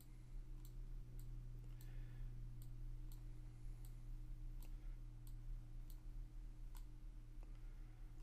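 Mouse clicks sound while menu items are being dragged and rearranged in a Divi website theme editor. The clicks are sharp, scattered and faint, over a steady low electrical hum.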